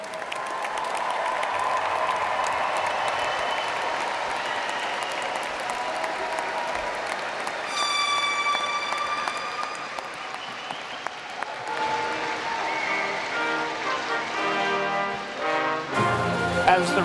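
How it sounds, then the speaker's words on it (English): Sustained, dense applause from a large crowd at the Eastern Kentucky University spring commencement honoring its newest graduates, steady throughout, with a tonal chime or music entering partway through. "let us recognize with a hearty round of applause Eastern Kentucky University's newest"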